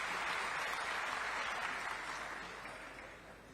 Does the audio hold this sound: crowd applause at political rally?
yes